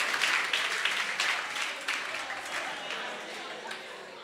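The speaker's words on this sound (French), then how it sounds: "Applaudissez, applaudissez." A crowd applauds steadily for several seconds, dense clapping at moderate loudness, with a few voices mixed in.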